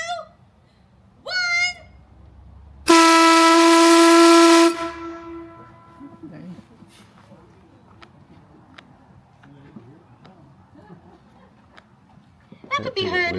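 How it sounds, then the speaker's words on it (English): A loud steam shift whistle blasts for about two seconds, a piercing harmonic tone, followed by hissing steam and faint outdoor sounds with brief voices. "I will be pulling the shift whistle"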